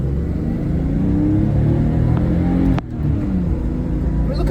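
A 1980s BMW E24 M6 engine revs hard under load while driving, a close, loud drone that climbs steadily in pitch. A brief drop at a gear shift is followed by the engine pulling again, with no talking.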